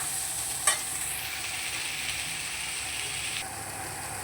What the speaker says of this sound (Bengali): ডাঁটাটাকে দিয়ে বেশ কিছুক্ষণ নেড়ে করে নেব যাতে ডাঁটাটা একটু হালকা ভাজা ভাজা মতন হয়ে যায়